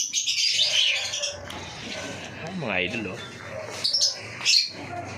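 Small caged pet birds chirp and tweet in short bursts close by during evening cage cleaning, mixed with someone speaking over them.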